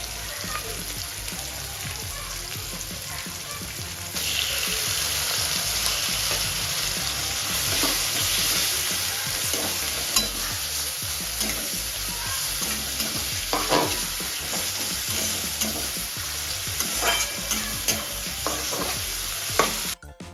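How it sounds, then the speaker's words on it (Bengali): Goat fat sizzling hard in a pan for spicy small-potato aloo dum, a dense crackling hiss that grows louder partway through, with stirring scrapes and clatter near the end. "দিয়ে দিচ্ছি খাসির চর্বি"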